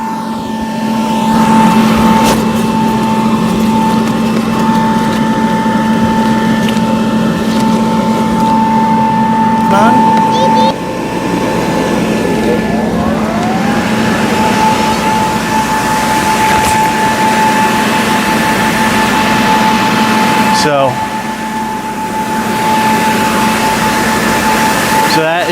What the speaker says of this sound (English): Let's set up the second blower.